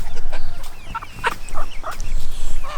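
Red Mottled Ancona bantam chicks outdoors near their pen: scattered short peeps and chirps over low background noise, with no talking.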